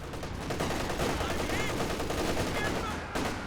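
Anti-tank guns and other weapons firing in the video game Company of Heroes 2, heard as dense overlapping gunfire bursts and booms in a continuous battle mix.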